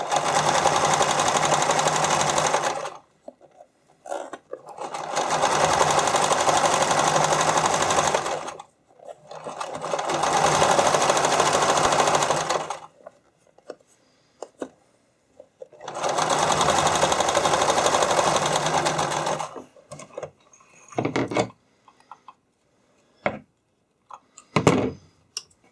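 A sewing machine stitches spandex for a skate cover, running in four steady bursts of rapid whirring separated by short pauses, then a few scattered clicks and handling taps.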